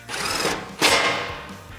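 A bolt is tightened on a Toyota Tacoma strut during a Rough Country 3-inch lift install, heard as two close, fairly loud buzzing mechanical bursts, the second slightly stronger, with no talking.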